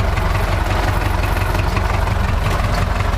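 A tractor engine runs steadily during manure spreading with a 4.5-tonne spreader, a loud, close, even diesel rumble with no people talking.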